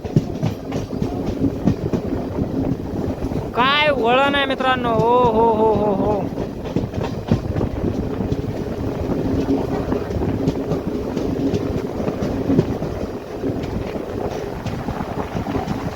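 The Nanded–Adilabad Intercity Express rolls on its rails through heavy rain in Maharashtra, a continuous rumble mixed with strong wind buffeting, while someone talks and exclaims excitedly.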